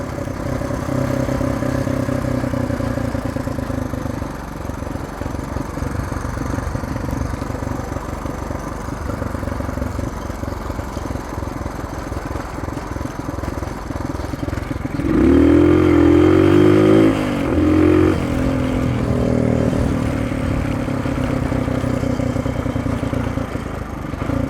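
Dirt bike engine running steadily on a rocky trail, close and loud throughout, with a burst of harder revving and clatter partway through before settling back to a steady drone.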